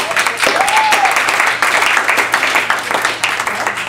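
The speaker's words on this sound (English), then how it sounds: "big round of applause for Rose and Martin." A crowd applauds Argentine tango dancers Rose and Martin, dense and loud clapping that fills the space evenly, with a faint whistle-like tone early on and voices mixed into the din.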